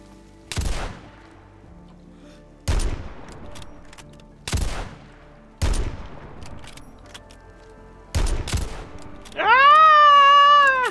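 Five loud gunshots from the DayZ game fired at body armor, each a sharp crack spaced a second or two apart, with no talk over them. A sustained, wavering tonal whine follows right after the last shot.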